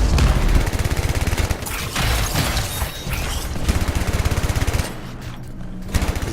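Rapid gunfire from the video game Anthem hammers at a fuel tank in sustained bursts of loud shots, with a brief pause near the end before the firing resumes.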